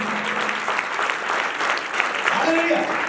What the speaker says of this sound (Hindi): जोर से ताली देके प्रेज़ कर हालेलुया।